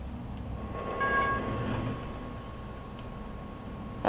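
In the Trainz railroad game, an Amtrak train on the CN Holly Sub passes a grade crossing, with a low rolling rumble, a brief swell, and light ticking clicks over a steady background.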